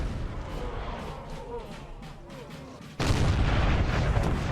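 Artillery fire in a Napoleon: Total War land battle, a rumbling stretch of distant booms and gunfire that jumps into a louder, dense roar of cannon and musketry near the end.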